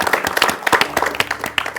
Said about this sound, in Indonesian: tepuk tangan dulu dong untuk Prof Wito